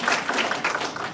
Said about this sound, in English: Let's just applaud each other